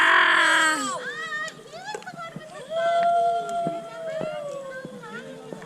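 A dog howls in drawn-out, wavering tones that rise and fall through several long notes, mixed with people talking nearby.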